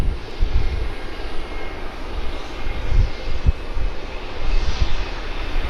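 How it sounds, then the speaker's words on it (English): Engines of an Emirates Airbus A380 airliner at an airport, a loud, continuous low roar that swells slightly toward the end, with no voices. "Second A380 of the night."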